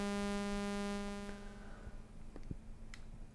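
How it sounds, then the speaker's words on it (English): A steady, buzzy sawtooth-wave synthesizer tone with many stacked harmonics fades out after about a second, leaving low hum and a few faint clicks. "as I bring up the slider, you can hear the sawtooth wave"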